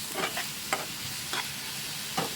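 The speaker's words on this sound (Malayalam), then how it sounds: "അതിലോട്ട് ആവശ്യത്തിന് ഉപ്പും കൂടി ഇട്ട് ചെറുതായിട്ടൊന്ന് വഴട്ടിയെടുക്കുക" Squid being sautéed with salt in a pan for a Kerala-style squid thoran, with soft sizzling and a few stirring scrapes spaced apart, fairly quiet and without talk.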